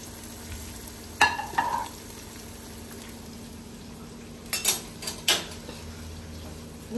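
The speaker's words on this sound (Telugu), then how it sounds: "ఇప్పుడు ఆయిల్ లో మనం ఇవి అన్నిటిని ఫ్రై చేసుకుందాం." Onions for paneer biryani fry in oil with a continuous close sizzle, broken by a few clattering stirs of a spoon against the pan.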